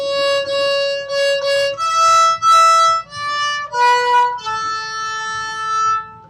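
Last line of Jingle Bells picked note by note on a stringed instrument, clear sustained tones ringing one after another, melodic and close, with no talking.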